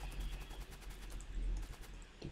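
Machine gun turrets in the video game Factorio, firing faint rapid bursts of small clicks and pops at low level, with a steady background hum.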